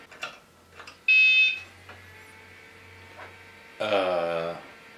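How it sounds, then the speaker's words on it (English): A 20-year-old computer motherboard gives two loud electronic beeps, one short and one longer, with the PS2 keyboard unplugged, over a low steady hum with quiet clicks between them. "unplugged the PS2 keyboard and the whole thing beeps now"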